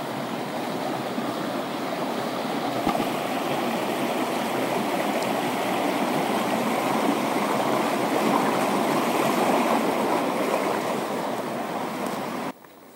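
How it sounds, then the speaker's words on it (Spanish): A river flowing through a snowy winter forest, a steady, close rush of water that stays loud and unbroken until it cuts off near the end. "Vamos a cruzar este otro río y estamos ya allá."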